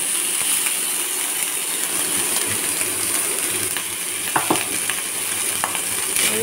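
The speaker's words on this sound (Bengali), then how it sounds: "এবার ভাতটাকে একটু নাড়াচাড়া করে নেব" Cooked rice in ghee is stirred in a hot pan under a steady sizzling hiss, with occasional scrapes and light metallic clinks of the spoon against the pan.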